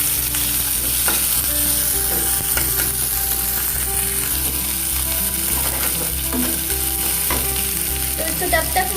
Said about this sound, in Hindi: ऑनियन को मैं थोड़ा गोल्डन ब्राउन करके फ्राई करूँगी।